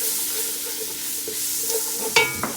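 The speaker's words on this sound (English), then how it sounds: "We're going to sprinkle in 4 spoonfuls of our spice and then give it a stir." A spoon stirs four spoonfuls of Mardi Gras spice mix into a hot pot, a close steady sizzle carrying light scrapes and a brief clink of metal near the end, with no one talking.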